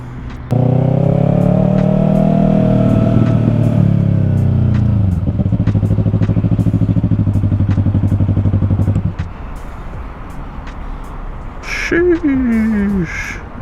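Motorcycles, including a Yamaha R3, arriving at a car meet, engines droning loud and close with a steady then pulsing idle before cutting out, followed by brief revving and a rising whine.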